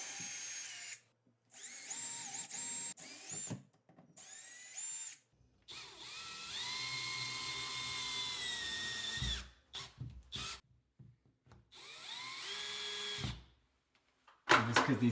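A power drill drives mounting screws into a wooden ceiling for an LED light fixture plate, whirring in several short bursts separated by pauses.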